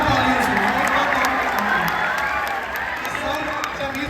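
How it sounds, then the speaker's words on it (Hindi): Loud, steady applause and cheering from a large crowd at a stage event featuring teacher Awadh Ojha, dense clapping with shouts and whoops sustained throughout. "आइए जोरदार तालियों से"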